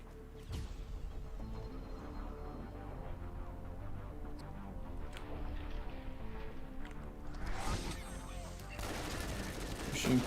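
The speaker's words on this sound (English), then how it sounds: "Machine pistol." Machine pistol fire in the video game Borderlands, quick bursts of shots with sharp transients early and a denser volley near the end, heard over game sounds and background music.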